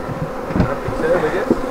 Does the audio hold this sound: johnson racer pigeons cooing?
no